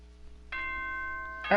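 The announcement chime from the video game Danganronpa 2 rings out as a two-tone ding-dong: a sustained clear bell note followed by a brighter second tone, moderately loud over a quiet background.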